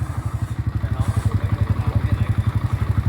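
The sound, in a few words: motorcycle engine running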